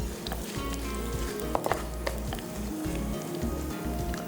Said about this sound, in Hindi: चलें, इसको भी थोड़ा करेंगे फ्राई।